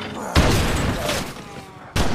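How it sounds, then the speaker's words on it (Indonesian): Gunshots ring out in a film scene as a man is attacked, two sharp, loud blasts spaced well apart, with an echoing rumble between them. "Namun tiba-tiba Henry diserang dengan beberapa tembakan."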